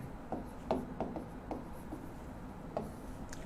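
Marker scratching out a topic heading in red on a classroom board, a run of short, quiet strokes and squeaks with brief pauses between them, close and faint, no talking.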